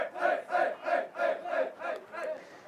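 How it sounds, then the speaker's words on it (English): A high school baseball dugout cheers after a player's first hit, with a group of players chanting in a steady rhythm of about seven evenly spaced, loud shouted pulses that fade slightly toward the end. "Now come a cheer for the dugout."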